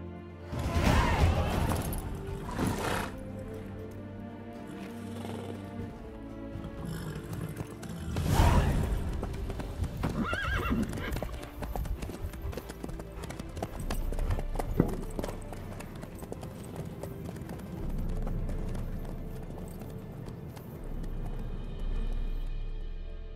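A horse in The Witcher video game clip-clops along with a rhythmic hoof pattern, loud and near, mixed with heavy game music and effects. An occasional snort or whinny may be present, though no clear neigh stands out.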